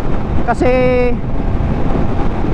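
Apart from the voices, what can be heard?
strong wind blowing on microphone while riding motorcycle on highway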